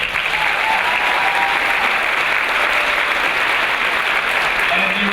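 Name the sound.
audience applause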